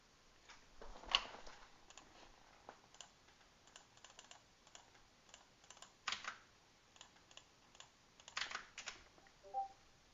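Quiet typing on a laptop keyboard, irregular clusters of soft key clicks with short pauses between them, close and faint with no talking.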